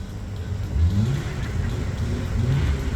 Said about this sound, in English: My great love, VW VR6. Sounds like it's got a turbo on it under the bonnet.